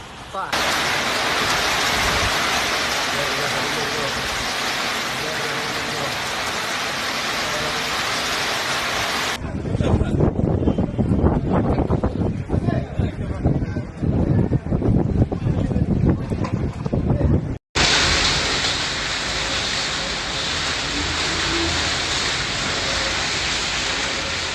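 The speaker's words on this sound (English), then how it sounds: "Rain accompanied by a storm with winds of 80 to 120 kilometers per hour" Heavy rain and a violent storm with winds of 80 to 120 km/h in Al Qassim, Saudi Arabia, a loud continuous roar of wind-driven rain and gusts, with a rougher, buffeting stretch in the middle.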